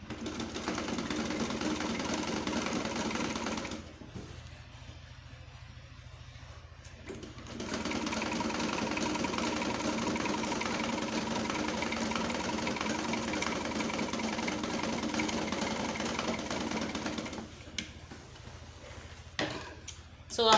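A sewing machine stitching the sleeve of a zipper-front gown, a steady close mechanical whir that pauses briefly and then runs on at an even pace before stopping, with a voice speaking quietly.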